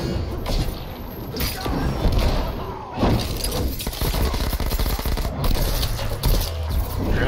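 Gunfire in the fighting game Mortal Kombat 11 rattles in dense, loud bursts mixed with crashing impacts and thuds, forming a continuous dense barrage throughout.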